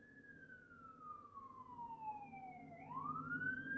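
Ambulance siren passing outside, a wailing tone sweeping slowly down then rising again, distant and faint but growing slightly louder as it nears, with low traffic rumble beneath.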